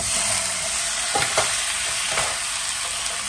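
Chopped chicken sizzles steadily in a frying pan while a utensil scrapes and stirs through it in a few quick strokes, close up with no voices.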